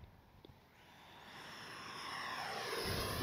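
A small Arrows RC 50mm Viper EDF model jet flying, its ducted-fan whine faint at first and then swelling steadily louder as it passes closer outdoors.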